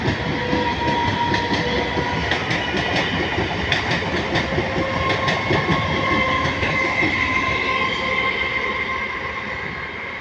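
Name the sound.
local train passing at speed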